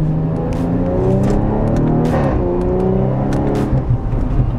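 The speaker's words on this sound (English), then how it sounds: "You can hear the gentle purr of the Remus exhaust." A 2019 Audi RS4 B9 Avant with a Remus sports exhaust rumbles steadily with a deep, throaty exhaust note, rising briefly in a rev midway, loud and close.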